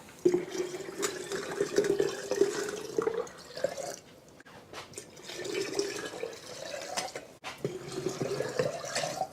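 Water pours in three separate bursts into sourdough starter, each a steady rising trickle into a container, with brief pauses between them.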